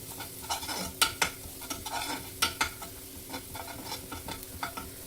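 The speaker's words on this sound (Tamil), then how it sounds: "ஆட் பண்ணி எண்ணெயில் ஒரு 2 to 3 minutes நல்லா ரோஸ்ட் பண்ணிங்கன்னா" Beef liver fry ingredients roasting in oil in a pan, with a steady sizzle and repeated sharp spoon-on-pan stirring clacks, close and fairly loud, no talk.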